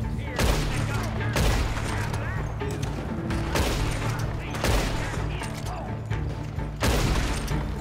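Repeated heavy gunfire from Red Dead Redemption 2 Online, loud close volleys of shots recurring about every second with rattling mechanisms between them, and a voice talking faintly underneath.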